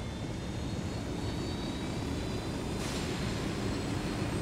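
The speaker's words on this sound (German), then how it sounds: "Das ist ja nur ein Heli." Steady, loud aircraft engine drone from a helicopter in the video game Ghost Recon Wildlands, a continuous broadband roar holding even throughout with no talking.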